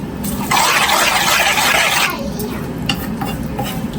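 Mushroom dish stirred quickly in a pan, a loud steady scraping and sizzling swirl lasting about a second and a half, then quieter kitchen clatter.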